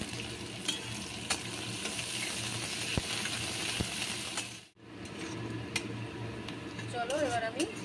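Chopped onions frying in hot oil with whole garam masala and white cumin seeds, a steady close sizzle with light stirring scrapes, briefly dropping out near the middle before resuming, with a voice humming or speaking faintly near the end.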